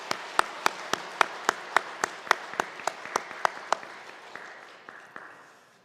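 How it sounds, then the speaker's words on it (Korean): A church congregation claps to welcome a new staff member during Sunday worship, a rhythmic unison beat of distinct claps that loosens and fades into scattered clapping near the end. "우리 박수로 환영해 주시기 바랍니다."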